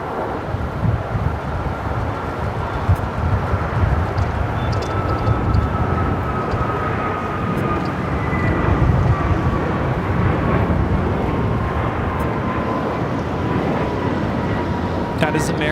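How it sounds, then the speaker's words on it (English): An American Airlines Airbus A321neo departs LAX for Honolulu, a continuous broad jet rumble with a faint steady engine tone, heard at a moderate distance alongside wind noise. "That is American Airlines 143 taking off to Honolulu on the A321 Neo."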